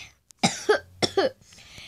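Two harsh coughs from someone with a cold, close and clear, each a short burst with a raspy tail, separated by a brief pause.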